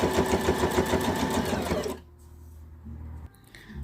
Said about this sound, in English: just going to sew this band into place